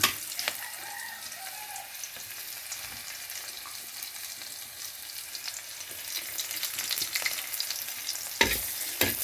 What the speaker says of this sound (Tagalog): gigisa na natin ang bawang